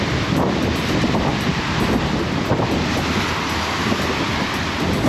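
Hurricane-force wind roars steadily through a Melbourne backyard, a loud, constant rushing buffet with heavy microphone wind noise and no voices.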